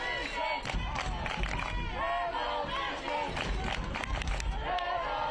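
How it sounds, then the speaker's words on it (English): A stadium crowd at Willett Stadium cheers and shouts throughout a New England Revolution II versus NYCFC II soccer match, a dense roar of many voices with individual yells rising above. "Crowd getting into it here at Willett Stadium."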